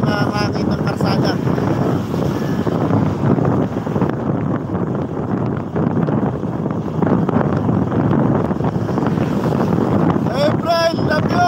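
Steady, loud wind buffeting the microphone while moving along a road, a constant roar with a faint voice near the end.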